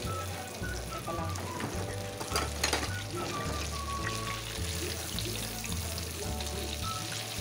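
Chicken feet deep frying in hot oil give a steady, dense sizzle and crackle that runs throughout, with faint low background noise and no clear talk.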